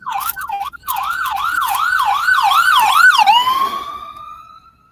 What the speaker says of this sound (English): There's another ambulance coming up.